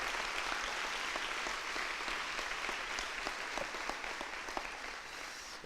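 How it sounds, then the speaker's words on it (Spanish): Church congregation gives sustained applause, a dense wash of many hands clapping with scattered sharper claps, steady and somewhat distant, tapering slightly at the end. "Dale a Él un buen aplauso."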